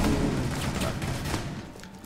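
Gunfire exchange in Rainbow Six Siege, a steady muffled stream of overlapping shots and thuds holding at a fairly constant level for about two seconds, with a faint voice in the mix.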